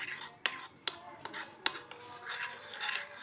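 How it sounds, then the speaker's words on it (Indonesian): Toothpaste and Mama Lemon dish soap stirred together for slime, giving sharp utensil clicks against a bowl and soft scraping rubs, several taps spaced irregularly, close and fairly quiet with no talk. "Campurkan pasta gigi dan Mama Lemon secukupnya. Sudah. Aduk."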